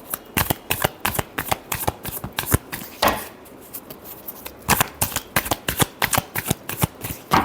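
Tarot cards riffle-shuffled up close in a quick crisp flutter, two bursts of rapid slapping cards split by a short pause.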